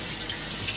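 Steady tap water streams into a kitchen sink while a fish grill used for salmon is washed, a continuous hissing splash, close and fairly loud throughout, with no talking.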